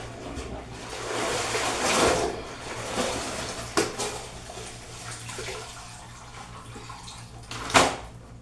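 Household washing machine running in a hot home, a broad watery churning wash with surges and a couple of sharper knocks, steady low hum underneath, no talking.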